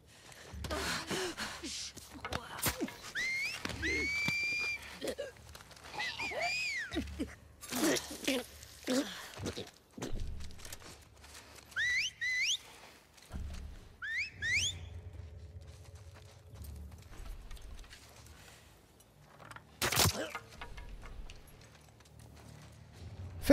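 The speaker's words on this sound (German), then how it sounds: "Die haben so ein Pfeif-Alphabet wahrscheinlich irgendwie. So Pfeif-Signale, Morse-Code-mäßig" Enemy whistle signals in The Last of Us Part II, several short rising and falling whistles heard at a distance amid footsteps, rustling and soft game ambience, with scattered thumps and breathing in between.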